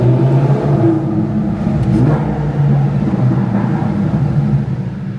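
A supercar driven through Miami, its engine droning and revving steadily from inside the cabin, a low loud rumble with a brief rise in pitch, no talk.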